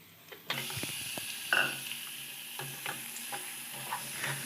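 Marinated chicken tipped into a pan of lightly fried spices for pepper chicken, giving a steady sizzle with a louder burst of frying at the start and scattered scraping clinks of a utensil against the pan.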